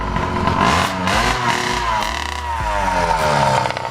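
A homemade 80cc motorized bicycle engine revs hard and close, its buzzy two-stroke note rising and falling through several quick throttle blips with rattly clatter underneath.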